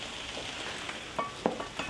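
Shredded potato hash browns frying in a pan, a constant close sizzle with a few sharp scrapes of a spatula loosening them near the end.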